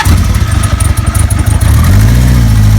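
A cold 1973 Kawasaki Z1 motorcycle on choke cranks and fires, the engine catching with loud, rough, uneven pulses before settling into a steady, close idle.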